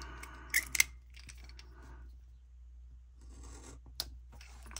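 Scissors snip through a strip of washi tape at a desk while a Happy Planner recipe book is being decorated: two sharp close cuts early on, then soft paper rustling and a later single click, with no talking.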